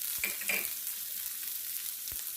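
Carrot and beans stirred in a hot pan with the sizzle of frying, a few scraping strokes of the spoon at the start and near the end over a steady hiss, with no talking.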